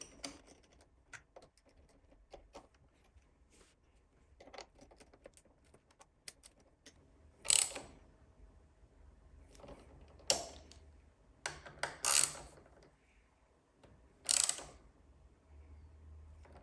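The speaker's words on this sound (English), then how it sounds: "Then you can grab your socket and start tightening the bolts." Socket wrench ratcheting while tightening bolts on an Ohlins Black Line steering damper on a Ducati Streetfighter V4, quiet clicking bursts at close range separated by pauses and light handling sounds.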